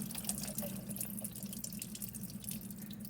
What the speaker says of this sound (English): run this underneath the faucet for about 5-10 seconds or so. Just trying to rinse them off.